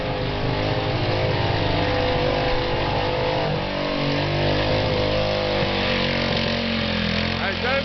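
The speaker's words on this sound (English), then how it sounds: "He's revving it up to keep the motor running." An engine revs continuously and loud to keep the motor running, roaring and wavering in pitch with no break from start to finish.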